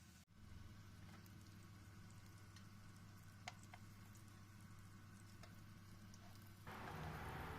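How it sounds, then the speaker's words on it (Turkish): Steady, soft sizzling of okra frying in oil, a continuous crackle with occasional pops, growing slightly louder near the end. "Bamyalar kızarmaya başladı"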